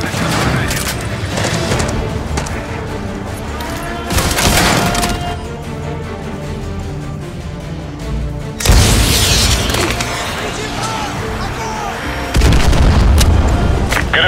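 AGM missile strikes explode in Call of Duty Modern Warfare 2 Remastered at a Russian naval base, loud booming blasts and rumbling debris in repeated heavy surges over sustained battle noise, with radio voices partly underneath.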